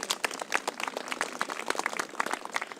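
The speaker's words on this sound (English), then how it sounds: "we deserve an applause for all of you" An audience applauds at an outdoor ceremony launching a community ambassadors program in Chinatown, dense scattered claps continuing for a few seconds with no speech.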